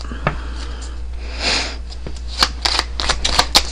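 Tarot cards are shuffled by hand in a quick series of papery riffles and soft flicks, close and fairly loud, with brief scattered pauses and a low steady hum beneath.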